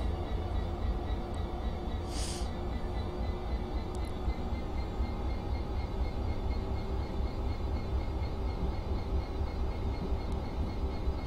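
A low, steady rumble of an EWS Class 66 diesel freight locomotive in a train simulator game fills the clip, continuous and heavy, with a faint brief hiss partway through and no talking.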